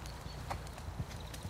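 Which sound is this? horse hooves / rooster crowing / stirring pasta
horse hooves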